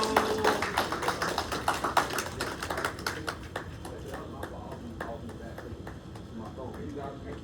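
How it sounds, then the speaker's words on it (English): An audience gives a round of applause, with dense clapping that starts loud and thins into scattered individual claps toward the end. "please let's give a round of applause to Mr. Chris Hart"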